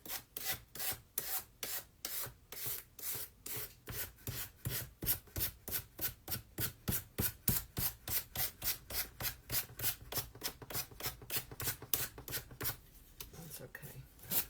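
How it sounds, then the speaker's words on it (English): Sandpaper rubs back and forth across a canvas in steady, rhythmic strokes, about two per second, each a close scratchy rasp, continuing for many strokes with a brief pause near the end. "I think my sandpaper's seen better days."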